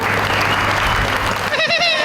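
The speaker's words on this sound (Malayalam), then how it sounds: "എങ്കിലൊരു കയ്യടി തരുമോ?" An audience at a magic and ventriloquism show applauds in a loud, dense wave that fades near the end as a voice begins speaking over it.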